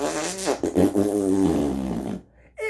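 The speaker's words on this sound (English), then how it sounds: "That was a fucking major chili fart." A loud, drawn-out fart with a wavering, buzzy tone rips for about two seconds on a TV talk show set, followed by a brief hush and a short faint sound.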